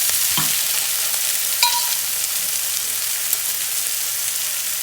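Onions sautéing in a pan for a meat and chard pie filling, a steady close hiss of sizzling with a couple of brief scraping stirs, no voices.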